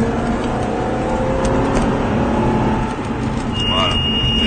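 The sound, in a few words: car accelerating hard on track during Aston Martin driving course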